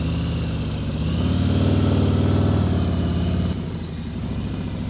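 A motorcycle engine hums steadily at close range as the rider brakes with the front brake for a smooth, controlled, non-emergency stop, the drone dropping noticeably quieter near the end.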